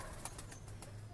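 Pigeons in a high-flying pigeon breeding loft, with faint, soft cooing and light fluttering set against a low, steady background hum.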